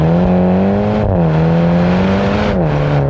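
A MINI GP3 in sport mode accelerates hard, its engine a loud, steady drone from inside the car that dips in pitch at two brief shifts and then pulls on again, with no talking.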